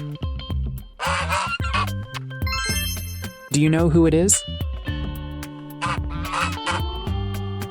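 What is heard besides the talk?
goose honking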